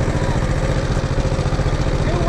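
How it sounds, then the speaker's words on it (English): A tractor engine runs steadily in a hay field, a loud, close, low droning rumble with an even idling pulse throughout. "That tractor might not be a very good tractor to pull."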